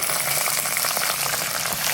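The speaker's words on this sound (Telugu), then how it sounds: "తగినన్ని జీడిపప్పు వేయించుకున్నాం" Cashew nuts frying in a pan for coconut rice, giving a steady, close, even sizzle and crackle that holds at one level throughout, with no talking.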